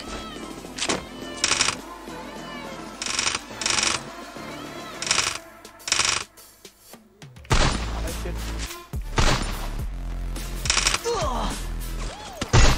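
Gunfire from the mobile battle game Free Fire comes in sharp, loud bursts and short volleys separated by brief pauses, with other game sounds and voices around them.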